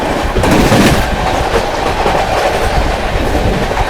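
Mahabodhi Express train running through Chunar Junction without stopping, a steady loud roar of wheels and rolling cars with rhythmic clickety-clack throughout, close and continuous.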